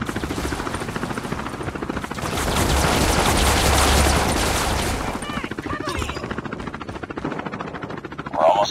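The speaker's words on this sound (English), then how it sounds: "Friendly deployed chopper gunner." Chopper gunner helicopter in Call of Duty Mobile: a loud, steady rotor drone mixed with bursts of rapid gunfire, swelling in the middle before thinning into choppy firing near the end.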